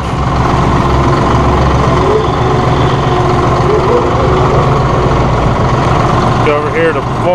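A 2016 John Deere 5045E utility tractor engine of 45 horsepower runs steadily at close range, a loud continuous idle-to-working drone filling the whole stretch, with a person talking over it.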